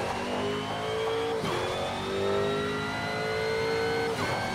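Jaguar race car racing at night in Need for Speed Shift 2, engine loud and continuous, revving up through gears with shifts and a faint tire squeal.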